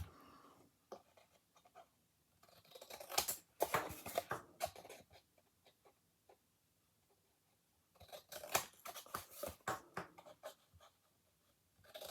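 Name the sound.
cutting along corners with scissors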